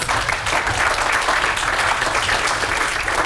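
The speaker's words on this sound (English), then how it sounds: "quick round of applause" A quick round of applause from an audience at a talk on activism, a steady even patter of many hands clapping throughout with no voices over it.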